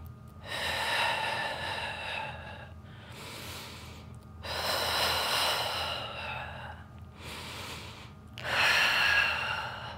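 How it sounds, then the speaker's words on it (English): Steady breathing during a home mat Pilates workout, each breath drawn in through the nose and let out through the mouth in slow, even cycles, with three long breathy swells and pauses between them, close and fairly loud, no talking. "You're gonna inhale through your nose for 5 and exhale through your mouth for 5."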